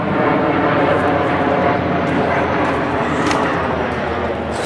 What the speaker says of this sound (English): Stupid airplane up in the sky.